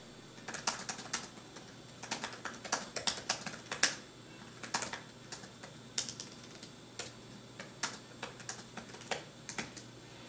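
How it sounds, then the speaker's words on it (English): Typing on a Microsoft Surface RT keyboard, in quick, irregular bursts of light, close key clicks with short pauses between runs over about ten seconds. "Now I can go on here and just start typing away."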